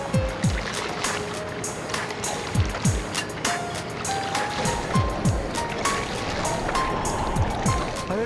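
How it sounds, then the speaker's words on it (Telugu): Small boat gliding across calm water in an animated children's tale, with soft continuous water swishes and trickling, light lapping strokes and faint creaks recurring through the scene, steady and moderately close. "ఎంత ప్రశాంతంగా ప్రయాణిస్తుందో పడవ."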